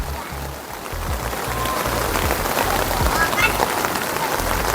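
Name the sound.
rain falling at riverside campground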